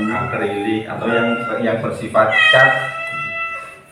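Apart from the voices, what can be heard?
neighbour's cat meowing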